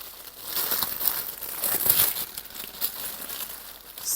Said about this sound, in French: Alors on va ouvrir ça. Je suis désolé pour les bruits.